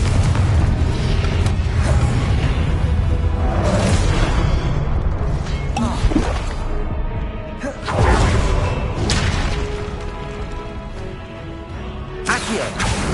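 Confringo fire-blast spell in the video game Hogwarts Legacy: repeated heavy explosive booms and whooshes, loud and dense, with thuds and crackling debris layered over busy combat sound.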